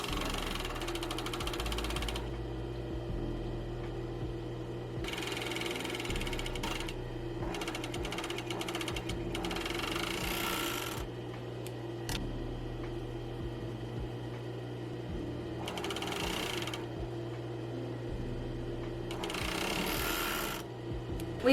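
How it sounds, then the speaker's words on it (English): A serger overlock sewing machine stitches a fabric panel in several separate bursts of fast mechanical whirring, each lasting a second or two, with quieter pauses and a low steady hum in between. "because I have my serger"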